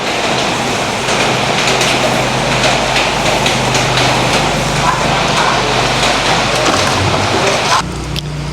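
Rain falls steadily as a dense, loud hiss that stays even for several seconds and then drops away abruptly at the very end.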